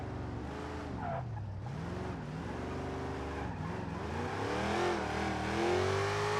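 A video game car revs hard and skids sideways in a drift, its engine whining and rising in pitch over a steady roar of tire noise that continues without a break.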